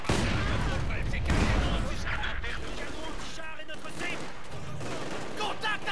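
Battlefield gunfire from Company of Heroes 2 on the Crimean front of Operation Barbarossa, dense rattling fusillade with bursts and booms, steady and loud throughout, with voices talking over the combat din.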